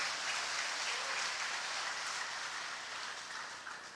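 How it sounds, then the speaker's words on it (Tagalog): A morning church gathering of lay faithful breaks into loud, dense applause from a large crowd, a continuous wash of clapping that slowly tapers off at the end. "Pwede po ba nating bigyan ng malakas na palakpak si Lord ngayong umaga?"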